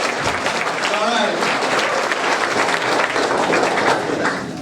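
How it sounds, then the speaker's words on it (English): A crowd at a retirement celebration claps steadily, sustained applause filling the room for several seconds while voices murmur underneath. "Let's hear you clap."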